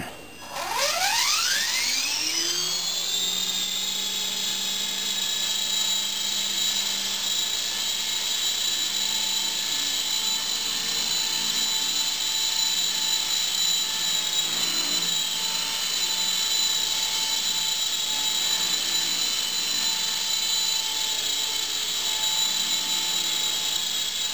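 A Honey Bee King V2 model helicopter spins up and holds a loud, steady high-pitched whine on its first test flight, with rotor tones climbing quickly at the start and then staying constant and near.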